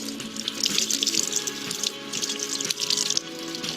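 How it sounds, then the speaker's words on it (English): Water running steadily from a tap into a sink during ritual washing, a continuous splashing hiss at moderate loudness with no voices, swelling slightly in a few places. "So first, turn on the tap"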